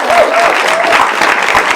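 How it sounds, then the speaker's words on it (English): Audience clapping for Danielle at a talk event, a short burst of dense applause, loud and close, with a faint voice mixed in. "please give Danielle a round of applause."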